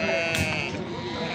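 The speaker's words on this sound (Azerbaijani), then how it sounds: "belə qomral quzular, boz quzular" Grey and dun lambs bleat close by at a livestock market in Füzuli, with a crowd murmuring and talking in the background.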